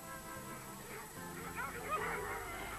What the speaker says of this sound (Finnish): Seuraavana olivat vuorossa koirat.